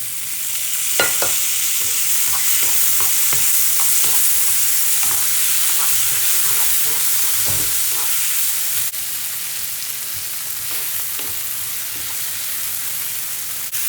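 A steady sizzle of tomatoes frying in a pan for egg curry fills the clip, with scattered scraping clicks from stirring throughout and no talking.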